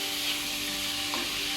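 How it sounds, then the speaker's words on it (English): Cabbage fries in a pan for Filipino bihon guisado, giving a steady, close sizzling hiss with a faint stir or scrape partway through. "So we will wait this cabbage to cook"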